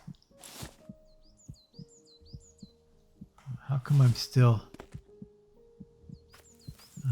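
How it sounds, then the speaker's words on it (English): Rhythmic heartbeat thumps pulse steadily through a video game scene, with faint synthetic bird chirps overhead and someone talking over part of it. "I can still hear my heart beating."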